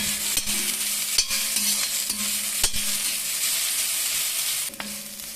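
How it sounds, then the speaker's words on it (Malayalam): Onion and crushed coconut sauté in a pan for an Agathi flower thoran, giving a steady close sizzle and fry broken by a few sharp scrapes and taps of a stirring spoon, with no voices. "ചതച്ച് വെച്ചിട്ടുള്ള തേങ്ങ ഉണ്ടല്ലോ ഇതിട്ട് ഞാൻ തേങ്ങേൻ്റെ ആ ഒരു പച്ചച്ചോവയ്ക്കൊന്ന് പോകുന്നവരെ നന്നായിട്ടൊന്ന് വഴറ്റി കൊടുക്കാം"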